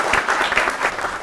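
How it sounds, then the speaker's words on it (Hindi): An audience at a Holi poets' gathering claps in a brief, dense burst of applause, loud and close, with no talking over it. "एक बार जोरदार तालियों से स्वागत कीजिए आपके बीच में ममता वासने।"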